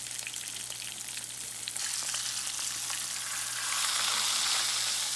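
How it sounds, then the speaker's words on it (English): Lake trout pan-frying in a pan gives a close, continuous sizzle with scattered crackles and spits that grows louder and hissier over several seconds, with no talking. "typically you want to fry the fish about 4 to 6 minutes on each side"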